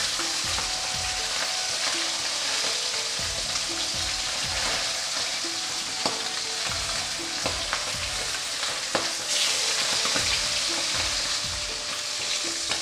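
Pabda fish sizzling in hot oil as the pieces are carefully turned, a steady crackling fry broken by repeated low scrapes and knocks of a spatula in the pan, close up with no talking.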